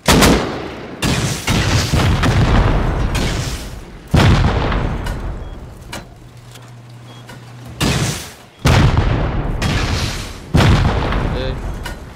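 Rocket explosions in the video game Rust, console edition, during a raid. Several loud, heavy booms go off one after another, each decaying into a rumbling tail, with quieter gaps between the blasts.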